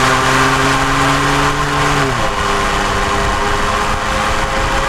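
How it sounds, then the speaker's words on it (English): Ford F150 3.5L EcoBoost pickup with a Flowmaster American Thunder cat-back exhaust, a steady deep drone that drops in pitch midway as revs ease off, loud and continuous with no talk. "Not the loudest exhaust ever, but it's definitely one of the ones that catch some attention."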